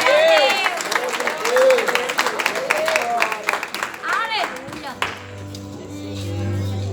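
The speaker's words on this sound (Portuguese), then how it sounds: "Aplauda Jesus." A church congregation claps and cheers amid voices, rhythmic applause mixed with shouting and crowd noise, loud and lively, before a sustained low organ-like tone takes over.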